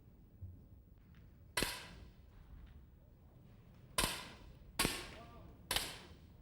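Four sharp, crisp air rifle shots ring out, spaced unevenly in a quiet hall during the women's 10m air rifle event at the 2000 Sydney Olympics. Each crack decays quickly.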